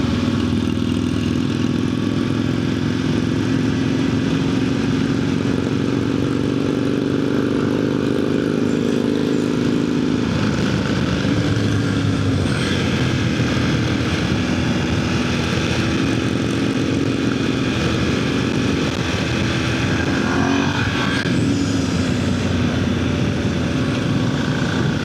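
A commuter motorcycle engine runs continuously while riding, a loud steady drone with rising and falling pitch as it accelerates and shifts, plus wind rush throughout.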